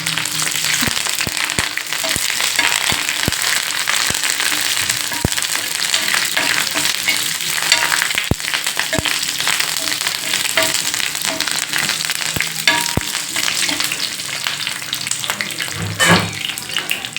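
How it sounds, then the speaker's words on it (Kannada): Curry leaves fry in hot oil for a coastal-style masala fish fry garnish, giving a loud, continuous crackling sizzle with frequent sharp pops and spatters throughout. "ನಾನು ಕರ್ಬೇವಿನ ಸೊಪ್ಪನ್ನು ಫ್ರೈ ಮಾಡಿ ಎತ್ತಿಟ್ಕೊತೀನಿ ನಾನು ಫಿಶ್ಶಿಗೆ ಗಾರ್ನಿಷ್ ಮಾಡಲಿಕ್ಕೆ"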